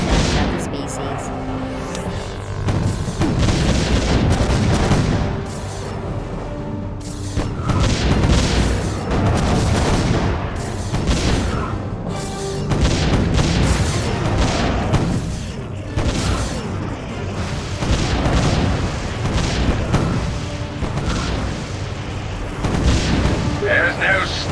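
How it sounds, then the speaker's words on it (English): Cannon fire in the tower-defense video game Defense Grid: The Awakening, a long series of booming blasts in irregular bursts, loud and continuous, mixed with game effects and occasional voice over the barrage. "There's no stun setting on cannon fire."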